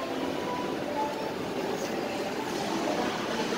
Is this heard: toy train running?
yes